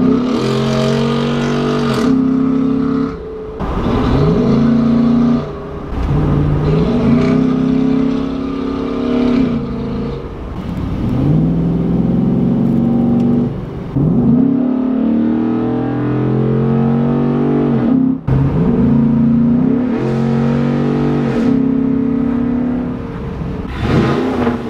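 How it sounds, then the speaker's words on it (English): Modified exhaust on a Ford Raptor pickup truck revving repeatedly, a deep throaty muscle-car-like roar rising and falling in about a dozen loud bursts with brief dips between them, close to the microphone, no talking. "So let's go ahead and get it warmed up and driven so I can really show you guys this exhaust."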